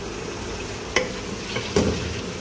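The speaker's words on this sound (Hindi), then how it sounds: "अदरक लहसुन डाला ऑयल में, टमाटर डाले हैं और साथ साथ जो है ना इसको बस भूनेंगे।" Ginger, garlic and tomatoes frying in oil in a pan, a steady close sizzle broken by a couple of sharp stirring scrapes.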